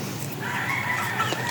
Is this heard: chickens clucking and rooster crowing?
yes